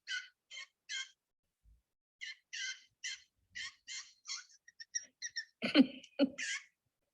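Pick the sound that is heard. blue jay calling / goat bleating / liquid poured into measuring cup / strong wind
blue jay calling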